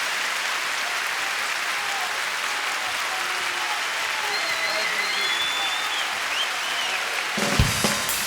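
Concert audience applauding continuously at a show, a dense, steady wash of clapping that fills the room, with a brief louder burst of handling or thumping near the end.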